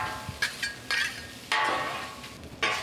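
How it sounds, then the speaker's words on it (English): A metal spatula stirs vegetables into a sausage mixture on a Blackstone griddle, with repeated scraping strokes and clinks over a steady sizzle, close by and with no voices. "I'm just going to mix these right into our sausage mixture."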